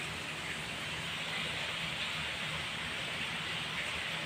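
Steady rain falls outside a house in a village during the morning, a continuous broadband hiss with no breaks, heard evenly at moderate distance.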